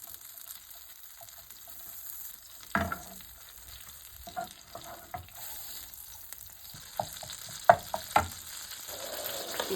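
Butter melts in a pan before onions and chillies go in for a chicken pastry filling, making a quiet, close sizzle with scattered sharp pops and crackles that grow more frequent toward the end.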